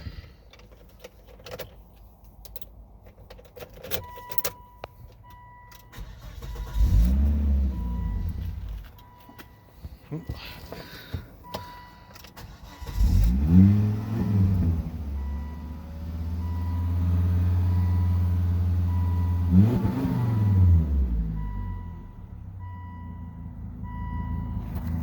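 A Volvo car with engine problems, recently treated with Seafoam, cranks and starts after key jingles and a chime, then revs up and down in several rising and falling surges, heard close and alone.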